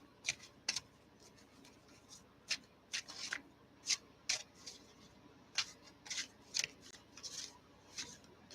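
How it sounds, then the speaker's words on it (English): Tarot cards being shuffled by hand, heard as a string of soft, crisp riffling snaps in short bursts, close and fairly quiet, with no talking. "I'll shuffle."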